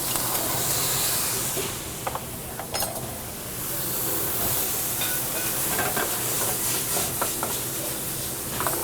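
Sausage with garlic, hot cherry peppers and sun-dried tomatoes in their juice fries in a pan, giving a continuous close sizzle broken by occasional scrapes and clicks of stirring.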